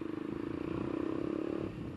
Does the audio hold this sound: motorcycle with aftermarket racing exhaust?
yes